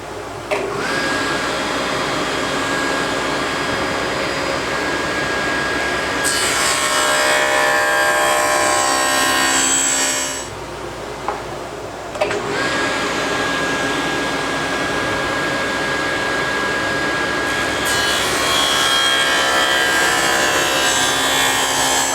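A table saw fitted with a dado stack cuts a wooden board, giving a loud, steady whining roar across two long passes with a short quieter gap between them.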